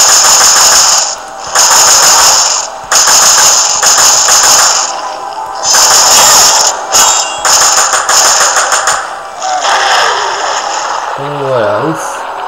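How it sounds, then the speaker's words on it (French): Repeated loud bursts of automatic gunfire empty a magazine in the video game Resident Evil Revelations, with short gaps between volleys and a voice talking near the end. "j'ai vidé mon chargeur dessus quand même"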